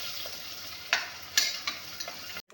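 Onions frying in a pan for pulao give off a soft, steady sizzle, and a few sharp stirring scrapes come through before it cuts off abruptly.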